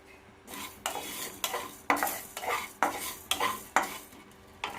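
Poppy seeds being dry-roasted in a pan, stirred with rhythmic spatula scrapes roughly every half second, each one a bright gritty rasp over a faint background hiss.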